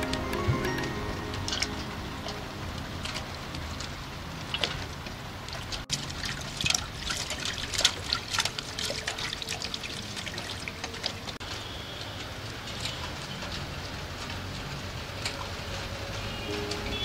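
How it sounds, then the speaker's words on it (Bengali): Freshly cut fish rinsed under a running tap, water pouring and splashing steadily for the whole stretch, with irregular clinks and sloshes as the pieces are handled, close by and with no voices. "এবার আমি ধুয়ে নেব।"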